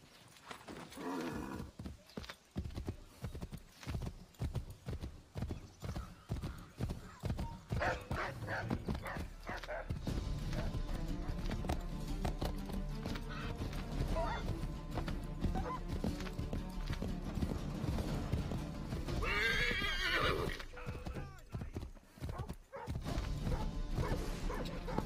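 Horse hooves clip-clop and a horse neighs in the Assassin's Creed III video game, set among busy game sounds and music that run throughout, with a brief high burst near the end.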